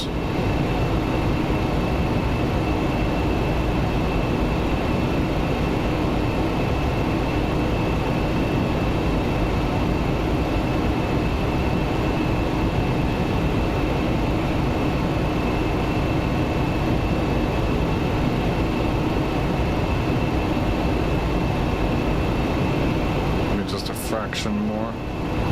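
Embraer ERJ145 jet engines in a flight simulator hum in a steady, loud drone with a sustained high whine as the throttles are eased back, ending in a brief clatter.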